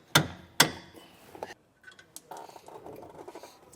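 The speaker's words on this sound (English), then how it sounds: "you might need a soft blow hammer with your wrench just to loosen them up" Two sharp metallic hammer strikes from a soft blow hammer loosening a nut, close together, then softer knocks and scraping of tools on metal, nearby with no voices, on a trailer's brake assembly.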